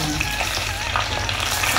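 Curry leaves hitting hot oil in a pan during rasam and potato fry cooking, giving a dense, loud, continuous sizzle and crackle throughout with no clear voices.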